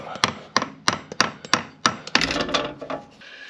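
A hammer knocks loose a jammed oil filter on a Fiat Panda, about seven sharp metallic blows in a fairly even rhythm, followed by a rattling, scraping clatter.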